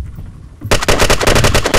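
Rapid automatic gunfire from a Destiny Crucible match, a loud, dense burst of repeated shots starting abruptly after a quieter moment and continuing steadily to the end.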